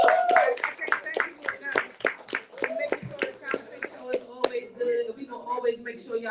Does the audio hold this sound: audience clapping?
yes